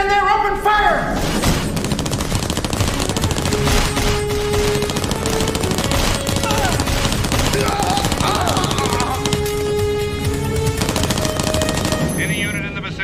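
Rapid bursts of gunfire rattle continuously in a dense, loud barrage, with shouting voices and heavy booms mixed into the chaos.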